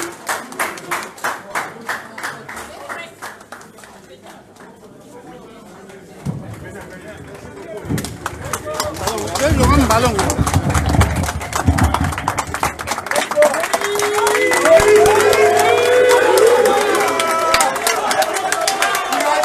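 A crowd cheers and claps loudly as presidential candidate Mathias Dzon leaves a press conference in Brazzaville, the applause swelling into dense cheering and chatter after a quieter start with talk.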